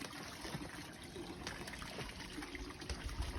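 Water trickles and dribbles steadily outdoors, a soft continuous wash with faint splashy detail at moderate level and no talking.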